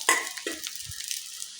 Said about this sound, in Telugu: రైస్ వేసాక మొత్తం హై ఫ్లేమ్ పెట్టి కలుపుతూ ఉండండి